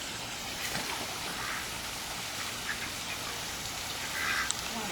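Ducks quack while being fed by the water, faint calls scattered through a steady wash of wind and water noise, with other birds around.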